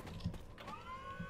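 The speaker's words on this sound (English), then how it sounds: "lower the forklift to make a ramp" A forklift lowers in the Left 4 Dead game. A faint mechanical whir slides into a steady motor tone over about a second, with soft clunks at the start.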